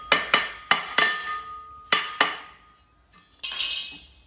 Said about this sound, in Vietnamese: chúng ta phải gõ tác động lực vào đây thì nó sẽ lỏng cái ti ra